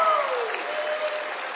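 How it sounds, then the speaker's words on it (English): Audience at a scholarship awards ceremony clapping in a burst of applause that starts loud and tapers slightly, close and dense. "Another round of applause"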